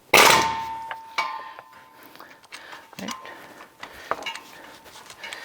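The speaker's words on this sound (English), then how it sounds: "Then we're going to use our impact gun." Impact gun at work loosening the clutch fan nut on a 2004-2009 Dodge Durango, with a sharp metallic clang at the start and then scattered clanks and taps of tools in a quiet garage.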